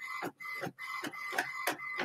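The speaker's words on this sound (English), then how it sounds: "It's printing out right. That's printing out. That's loud." An inkjet printer runs a print job of manga panels, its print head shuttling back and forth in loud, regular whirring passes broken by short mechanical pauses, heard close up with no talking.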